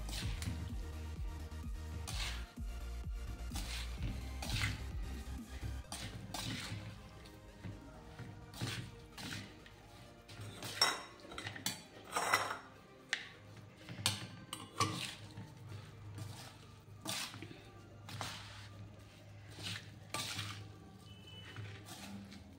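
Amla (Indian gooseberry) pickle with oil-fried slices and jaggery is mixed by hand in a bowl, giving soft squishing, stirring and clinking sounds that repeat irregularly at close range.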